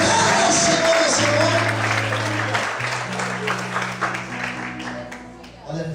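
A church congregation applauds during a worship service, steady clapping filling the room beneath sustained instrumental chords, with voices mixed in throughout.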